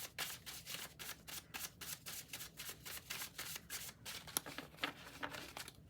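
Tarot cards are shuffled in steady, repeated riffling bursts, close and fairly soft, continuing rhythmically for several seconds.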